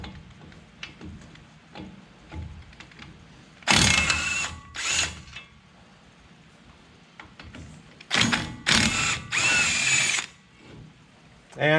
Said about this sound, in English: It's easiest to use a electric impact or an air impact to remove these bolts.